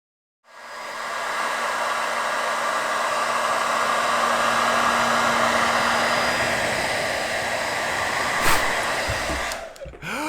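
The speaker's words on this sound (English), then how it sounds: "What makes that ping pong ball float in midair above the hair dryer?" A hair dryer switches on and blows steadily, holding a ping pong ball floating in its airstream during a live stage science demonstration; a loud, continuous whooshing roar lasts several seconds with a brief knock near the end before cutting off.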